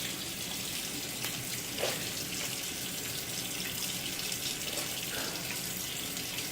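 Steady hiss of a tap running into a sink while rinsing during a shave, continuous and moderately quiet, with faint clinks and splashes, no voices.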